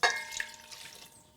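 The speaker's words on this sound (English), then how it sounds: "So to that, we're going to add our 200 mils of water." Water being poured into a rye sourdough starter, a short splashy pour that starts with a sharp burst and fades into gentle trickling and dripping, close and fairly quiet.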